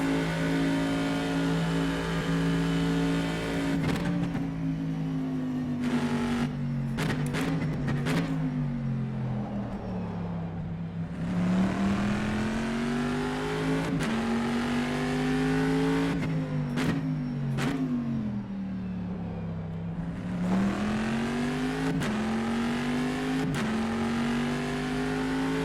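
Race car engine in the rFactor 2 EnduRacers mod racing game, revving loudly and continuously with rising and falling pitch and sharp upshifts, droning throughout with no talk.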